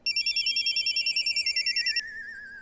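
A telephone rings in rapid warbling electronic bursts for about two seconds, then cuts off, leaving a faint steady tone; no one speaks.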